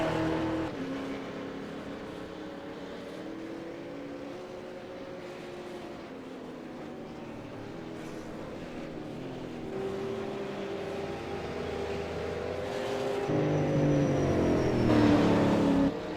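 Engines of V8 Supercars on out laps at Montreal drone steadily in a sim racing game, with several overlapping engine notes that rise toward the end as the cars accelerate, heard with no talking.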